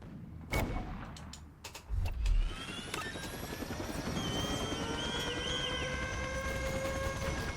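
A helicopter in the video game Toy Soldiers: Cold War, its steady rotor drone rising and holding under sporadic gunfire and explosion hits, moderately quiet in the mix.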